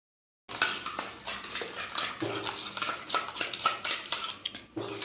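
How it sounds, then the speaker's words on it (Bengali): Yogurt whisked for a chicken marinade in a home kitchen, a quick steady rhythm of a spoon or whisk clattering against a bowl, starting suddenly after a moment of silence and continuing close and clear with no talk. "দইটা এখন ফেটিয়ে নিচ্ছে"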